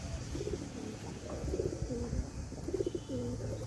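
A black pigeon, one of several kept penned and being treated for illness, gives repeated soft coos in short bursts, close by in a quiet room.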